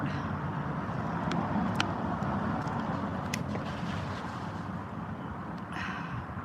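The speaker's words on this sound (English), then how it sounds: "Yeah, the traffic is loud." Loud, steady road traffic from passing cars, a continuous broadband roar with a few brief higher swishes and some wind noise, no talk.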